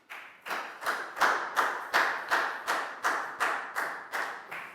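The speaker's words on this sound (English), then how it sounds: "Big round of applause for Pak Bung," A small classroom group claps in unison for a student, about ten evenly spaced, fairly close claps building slightly and then easing, with no talking.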